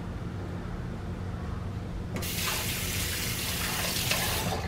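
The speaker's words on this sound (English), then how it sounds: "Wash my hands." A kitchen tap turns on partway through and water splashes steadily as hands are rinsed under it, a broad close hiss over a low background hum, with no talking.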